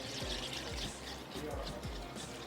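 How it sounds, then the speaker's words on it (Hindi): Water is poured into a pot of chicken pakora kadhi, heard as a run of four or five close, gurgling splashes in a loose rhythm over a steady hiss. "थोड़ा सा मैं इसमें और ऐड करूँगी पानी।"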